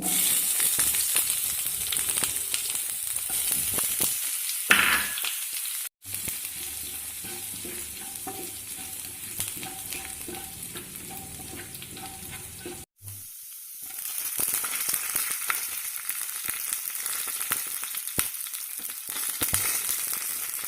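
Mustard seeds and onion fry in a pan for a jackfruit stir-fry, giving a loud, steady sizzle and hiss with stirring scrapes throughout, broken by two brief silent gaps.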